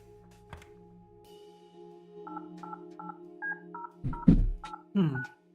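Telephone keypad tones from the video game Kathy Rain 2 as a number is dialed, a quick series of short even beeps in a row, followed by a voice talking over the end.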